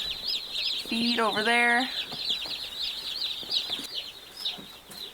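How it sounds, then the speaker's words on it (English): Young meat-bird chickens cluck and chatter near by over continuous high cheeping, and a person speaks briefly. "they're already, doing chicken things, pecking the ground."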